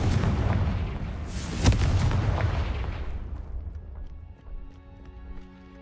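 A Confringo fire spell bursts in a Harry Potter video game, a loud booming blast with a sharp crack that rolls into a long fading rumble, followed by soft ringing tones as the noise settles.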